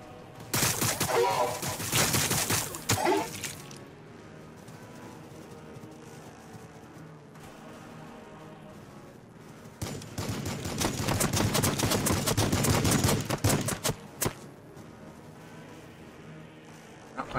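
Bursts of battlefield gunfire in the Warhammer 40,000: Battlesector video game: a dense volley of rapid shots, then a lull of low rumble, then a second longer volley of crackling fire, loud and close.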